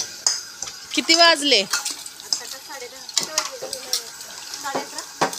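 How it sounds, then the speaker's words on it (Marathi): Dishes and utensils are scrubbed and rinsed in a village home, with scattered clinks, scraping and splashes of water running beneath ongoing conversation. "भांडी घासत बसलेत."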